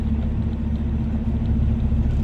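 A truck engine rumbles steadily while driving slowly toward a loading pit, a constant, close, low drone filling the cab without talk.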